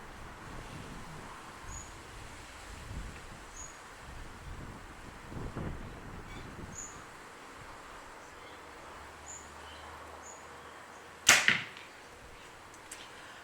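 An arrow is loosed from a 2024 Bowtech Core SR compound bow outdoors under a shelter, with a single sharp snap and thud standing out against steady wind noise and faint birdsong.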